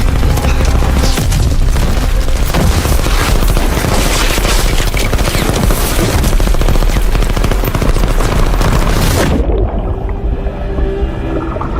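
Loud, sustained bursts of machine gun fire with heavy booms fill an action film battle scene, rattling continuously before cutting off sharply near the end.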